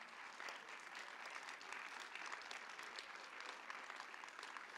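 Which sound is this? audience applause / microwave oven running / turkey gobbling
audience applause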